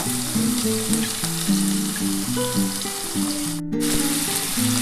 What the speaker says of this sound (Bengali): একটু লাল করে আলুটা ভাজবো।